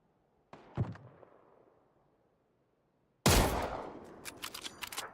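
Gunfire from the video game PUBG: a sharp burst of shots fades into a distant rumble, then a loud close volley erupts with repeated rapid cracks trailing off.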